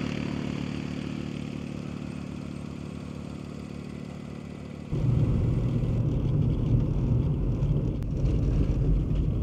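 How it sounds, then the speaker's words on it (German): A quad bike drives along an ice road over frozen Lake Kuolimo in Finland. Its engine holds a steady mid-pitched drone, then grows suddenly louder and rougher halfway through, rumbling with a clattering edge. "da kommt jemand mit dem Quad angefahren"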